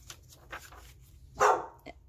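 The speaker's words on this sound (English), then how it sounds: "sorry, that's my dog" A dog gives one short bark in the distance, faint, with a few softer muffled sounds before and after.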